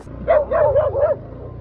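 A dog gives a short, wavering whiny bark-yelp, close and brief, greeting arrivals on a motorcycle over a low engine-like rumble.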